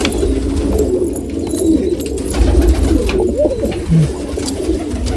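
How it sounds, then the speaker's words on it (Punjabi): Nesting pigeons on their eggs give close, low rolling coos, several phrases in quick succession with no talk. "ਤੇ ਹੁਣ ਕਬੂਤਰ ਆਂਡਿਆਂ ਤੇ ਆਏ ਆ"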